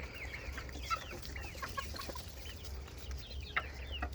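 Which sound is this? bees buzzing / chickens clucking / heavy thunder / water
chickens clucking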